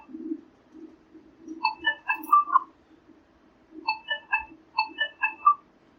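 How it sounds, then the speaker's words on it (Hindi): A QMobile SL100 mobile phone vibrates in short, rhythmic low buzzing pulses, accompanied by bursts of a bright, chirpy electronic melody that come and go. "वाइब्रेशन मौजूद है मगर काफ़ी हल्की वाइब्रेशन है।"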